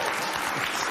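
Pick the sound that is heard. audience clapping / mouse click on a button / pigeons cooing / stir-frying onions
audience clapping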